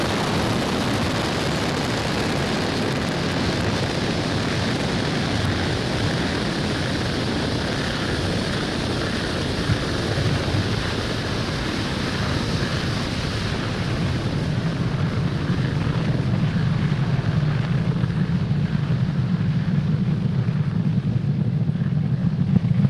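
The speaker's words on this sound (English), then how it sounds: "Falcon 9 has successfully lifted off from Pad 40 at Cape Canaveral Space Force Station" SpaceX Falcon 9 rocket lifting off from Pad 40 at Cape Canaveral Space Force Station on its Merlin 1D engines, a loud sustained broadband roar and rumble that deepens and thickens in the low end as it continues.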